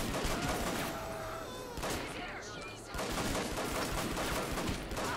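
Rapid gunfire from the video game Hatred, with sharp, dense, rattling shot bursts that fill the clip in fast succession and pause briefly between volleys, set against chaotic in-game noise.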